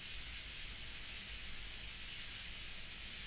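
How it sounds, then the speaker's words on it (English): Subtle bedroom room noise used as an ambient layer for a music track: a steady, soft broadband hiss with a faint low rumble, constant and even throughout with no distinct events. "I've also layered some like just bedroom noise"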